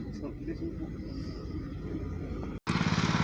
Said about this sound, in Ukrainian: Зараз трактор буде від'їжджати.